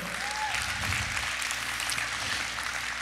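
Spanish-speaking church congregation applauds during a service, giving dense, continuous clapping with a brief whistle or cheer near the start, filling the room evenly from start to finish.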